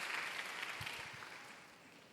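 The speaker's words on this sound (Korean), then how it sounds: "차렷 경례 박수로 함께합니다" Applause from a church youth service congregation, a steady diffuse wash of many hands clapping at moderate distance, fading gradually over about two seconds.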